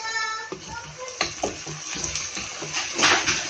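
Water pours and splashes as cooked cabbage is drained, a close, uneven gush broken by a few clunks of a pot or colander.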